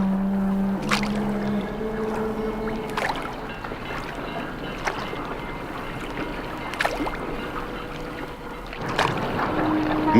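A small boat moves across open water, with splashes recurring every couple of seconds like oar strokes over a steady outdoor wash. No one speaks.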